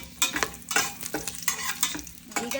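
Bay leaf, star anise, cinnamon, cloves and dried fenugreek leaves fry in hot oil for chicken biryani, crisp close sizzling with a few quick stirring scrapes and no speech.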